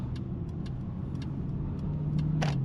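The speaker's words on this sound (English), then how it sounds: "just give the car some good amount of power" A Mercedes-Benz GLE 580 with a V8 engine pulls forward in sport mode on a night drive, a steady low engine drone heard from the cabin with faint clicks over it.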